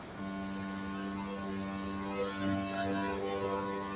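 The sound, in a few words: humming noise, probably from a reptile misting system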